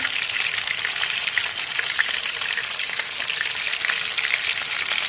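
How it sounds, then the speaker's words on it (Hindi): Beef chapli kebab fries in hot oil in a pan, a loud, dense and continuous bubbling crackle that holds steady up close without any voices. "ये देखें, ये बबल जाना शुरू हो गया है, पकना शुरू हो गया"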